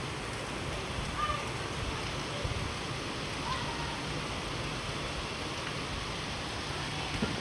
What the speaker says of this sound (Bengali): প্রচুর বৃষ্টি, এখন আরো বেড়ে গেছে